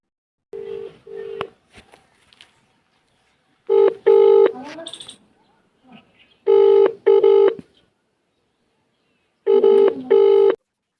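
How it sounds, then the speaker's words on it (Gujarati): A telephone rings in repeated double bursts, loud and close, with silent gaps between each pair of rings and brief voice sounds in between. "એને ધ્વલસિંહે ફોન કર્યો"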